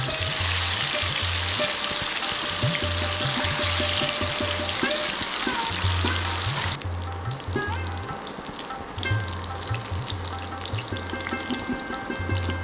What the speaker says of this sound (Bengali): তেল গরম হলে একে একে মাছটা এপিট ওপিট করে হালকা ভেজে নেব।